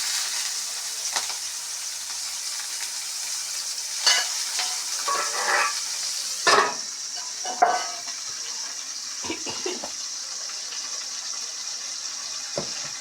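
Oil heating in a pan for tomato rasam, a faint steady sizzle with scattered stirring scrapes and clinks of a spoon against the pan, no talking.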